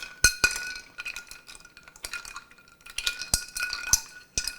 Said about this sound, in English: we're going to give it a nice stirry poo here.